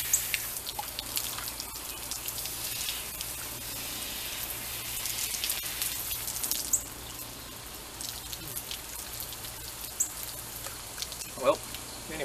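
A shower runs steadily with a soft, continuous hiss of spraying water and scattered drips, fairly quiet and heard alone.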